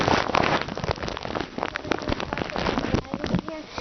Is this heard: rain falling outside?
yes